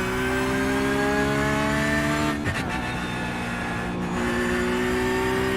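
A car accelerates hard on the Nürburgring Nordschleife, the engine droning steadily and loud with rising tonal whine, briefly dipping at a gear change before pulling on again, no talk.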